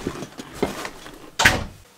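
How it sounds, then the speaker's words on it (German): A household door swings shut nearby: faint clicks and rustles lead into a single soft, dull thud, then quiet. "Oh, Tür geht zu, wartet."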